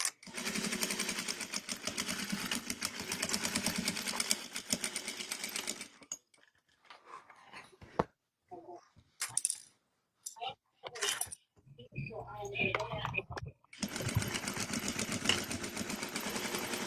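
A sewing machine stitches a clutch bag in loud, rapid bursts of mechanical whirring and clatter. Pauses in between are filled with clicks and handling noises, and people talk nearby.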